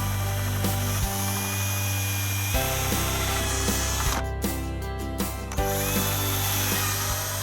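Power drill boring holes into a plastic compost tub, loud whirring motor with repeated bursts that stop and restart as each hole is drilled, close up and without talk.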